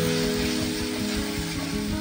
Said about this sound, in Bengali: মশলাগুলো একটু সামান্য ভাজা হয়ে যাক